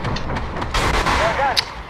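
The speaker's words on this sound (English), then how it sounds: "Get the missiles on him." Missiles fire at an enemy in a video game, a loud booming burst followed by whooshing launch sounds and a sharp final crack, with faint background noise.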